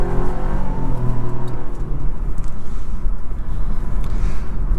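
A 2020 Buick Encore GX with a 1.2 liter turbo engine accelerating from a start, its engine revving up loud and close in a rising, rumbling drone under heavy road and wind noise.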